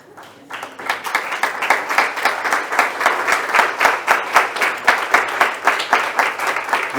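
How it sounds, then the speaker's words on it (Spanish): Loud applause from a standing audience at a Spanish-language book presentation, dense steady clapping that rises quickly and sustains for several seconds, with a few voices faintly mixed in. "que nos pongamos de pie y le demos un aplauso bien grande a Daisy y a Frances"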